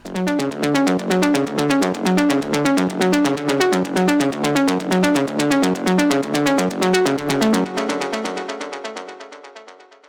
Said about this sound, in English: It's just a pluck preset